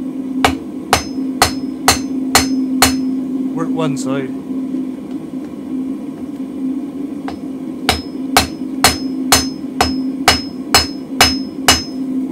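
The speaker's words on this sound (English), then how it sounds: "hammer at an angle as well, and then we forge this out into an oblong" Loud, rhythmic hammer blows ring on hot metal being forged into a bolster plate, in quick runs, a pause with a voice speaking in between, then another steady series of strikes over a constant hum.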